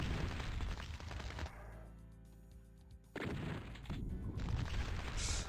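Gunfire in the Doom mod Happy.wad, dense loud shots and impacts, then a brief lull with a humming tone, then the firing resumes heavily, close and punchy.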